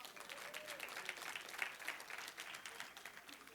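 A church congregation applauds and cheers in praise of the Lord, a steady, moderately distant crowd clapping with a few scattered voices mixed in.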